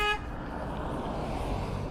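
A single short car horn toot sounds at the very start from a vehicle on the road, then gives way to steady engine and road rumble.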